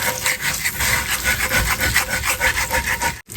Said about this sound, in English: Scrape the bits up the best you can.